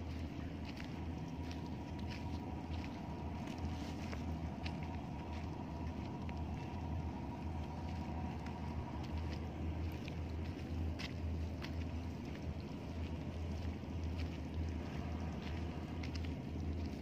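A ship bound for Lombok sits at a harbour, giving off a low, steady engine drone, faint and distant, mixed with wind noise and no talking.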